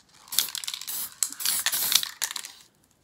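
Hissing bursts of a Design Master aerosol sparkle spray can on a spray rose corsage, several short sprays in quick succession close by, ending in quiet.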